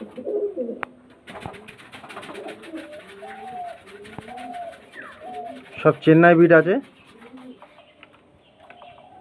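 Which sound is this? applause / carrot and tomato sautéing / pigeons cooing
pigeons cooing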